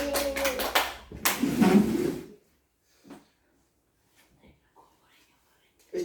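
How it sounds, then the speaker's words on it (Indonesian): A short round of hand clapping from a group in a classroom follows a spoken line. The applause lasts about a second, then fades into near silence with faint rustles. "Tepuk tangan untuk kita semua."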